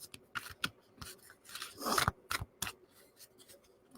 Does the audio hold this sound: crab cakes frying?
no